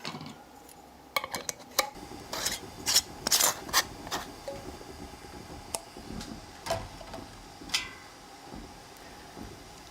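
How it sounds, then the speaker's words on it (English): Metal screw bands being twisted hand tight onto glass canning jars, giving a run of small scraping, clinking and rasping contacts, some sharp and close, scattered irregularly with brief pauses between them. "get your screw bands and screw those down"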